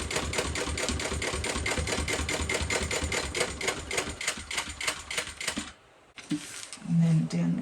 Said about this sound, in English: I'm just going to sew along